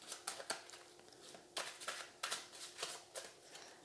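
Small tinned Morgan Greer tarot cards made of thin card stock are shuffled by hand, giving quick, close, crisp riffling bursts in an irregular rhythm, with no one speaking.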